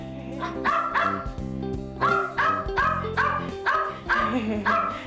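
Peanut, a lively rescued dog, barks again and again in quick bursts, loud and close, some barks sliding into yips and whimpers.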